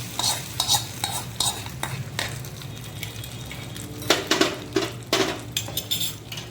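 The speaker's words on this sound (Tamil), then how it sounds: "தாளிப்பை சட்னியில் அப்படியே சேர்த்துக்க வேண்டியது." A sizzling tempering of curry leaves is tipped into coconut chutney and stirred, with repeated close scraping and clinking of a spoon against the pan or bowl under a faint frying hiss.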